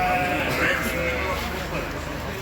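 Sheep bleat amid the noisy crowd of a livestock market, a couple of short calls rising over a steady hubbub of voices and animal sounds.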